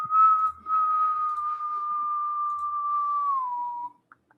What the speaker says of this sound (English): I'm sure that's annoying whistling into that.